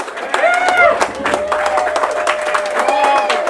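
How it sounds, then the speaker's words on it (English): An audience at an open mic night in a café claps and cheers after a band's set, with whoops and shouts mixed into the steady applause and voices talking over it. "I think if we clap loud enough"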